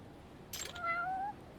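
A cat in the video game Judgment gives a single short, fairly faint meow with a rising then falling tone, alone against quiet background.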